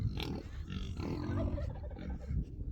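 A small turkey gobbling up close, loud rapid warbling bursts repeating over a few seconds amid other farm-bird noise.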